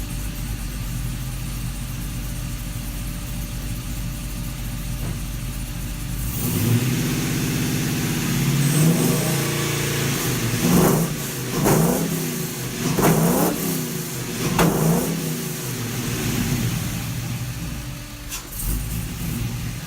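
A 1980 K5 truck engine with an LS swap idles with a deep rumble through Magnaflow mufflers, then revs up sharply several times in a row, each rev roaring and falling back, close by.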